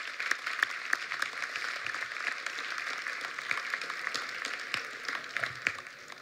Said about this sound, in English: let's give another round of applause for being here today